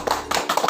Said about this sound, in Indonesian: Oke, berikan tepuk tangan buat Salvator.